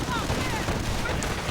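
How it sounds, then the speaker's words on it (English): Armored car auto cannon fire in a real-time strategy war game, a dense continuous barrage of gunfire and booms with rattling bursts, loud throughout, with voices mixed in. "armored car tearing through them with the auto cannon"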